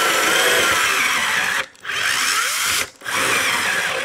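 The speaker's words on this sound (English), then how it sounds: "11/64 tapered bit to pre-drill with, and I would definitely pre-drill" A cordless power drill with an 11/64 tapered bit pre-drills wood for a desk build, a close, loud whirring drone that stops briefly twice before running on.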